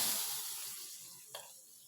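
Mustard seeds frying in hot oil give a bright, close sizzling hiss that slowly fades, with one small pop near the end.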